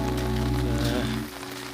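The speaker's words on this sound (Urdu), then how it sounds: "اتھو اندازہ لائی کہ بارش کی سپیڈ پانی کتنی سپیڈ نال بہنا شروع ہوئی گیا" Heavy rain pours onto a road, a steady loud wash of drops with a low rumble and hum beneath that eases slightly toward the end; no voices.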